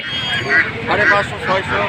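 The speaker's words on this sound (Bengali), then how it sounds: "এই যে এখানে এক মামা কিন্তু হাঁস নিয়ে আসছে প্যাতি হাঁস দেশি প্যাতি হাঁস" Native domestic ducks at the Mahadevpur village market give loud, nasal honking quacks in short repeated bursts close by, with voices of people mixed in.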